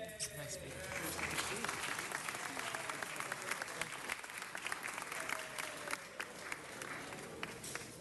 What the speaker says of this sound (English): So let's give him a big round of applause.